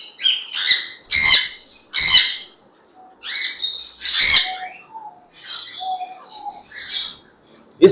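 A pair of pet sun conure parrots gives loud, shrill squawks and chirps close by, in short bursts with brief pauses between calls.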